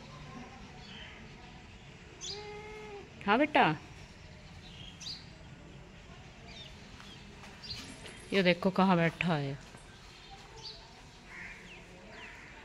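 Small birds chirping nearby, two quick bursts of bright twittering calls rising over a quiet outdoor background while someone talks softly throughout.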